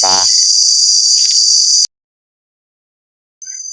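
Insects chirp loudly in a forest fruit garden, a shrill, steady high trill close by that cuts off abruptly and returns briefly after a pause of silence.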